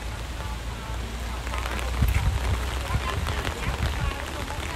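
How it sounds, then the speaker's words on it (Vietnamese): Rain pours steadily during a thunderstorm with gusting wind in a rubber plantation, a dense rushing hiss with a few heavier bursts, no clear thunder crack. "Kiểu này là giông gió nè, giông gió nhiều hơn mưa"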